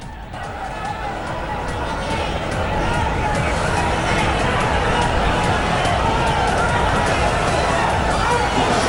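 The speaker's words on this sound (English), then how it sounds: "A huge crowd also that gathered to show their solidarity with him" A huge crowd gathered in Mylapore in solidarity, a loud, steady wall of hubbub and overlapping chatter with occasional distant shouts, continuous throughout.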